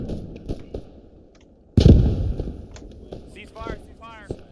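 Gunfire in a field operation: a sharp loud shot-like burst with rumbling tail, preceded by scattered fainter pops, with faint chirpy sounds later and no clear speech.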